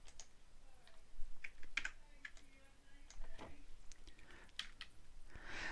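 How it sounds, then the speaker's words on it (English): Quiet computer keyboard clicks as Shift and S are pressed, a few scattered key taps and small ticks over a faint room background with no speech. "I'm going to press Shift and S on the keyboard"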